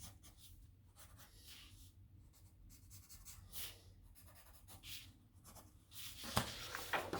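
A pencil draws wavy lines on paper, giving soft, close scratching strokes that come in uneven bursts, faint and quiet throughout, with a slightly louder run of strokes near the end.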